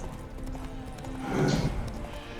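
Roach, the horse in Witcher 3, stamps with hoof clops and lets out a short, spooked whinny that swells briefly in the middle, over game ambience.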